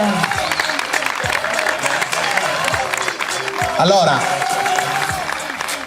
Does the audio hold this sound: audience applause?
yes